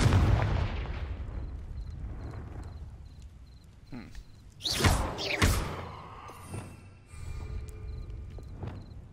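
A Confringo fire spell in a Harry Potter video game goes off as a couple of sharp, loud bursts in quick succession, then trails off into a lighter crackle and a faint tonal hum.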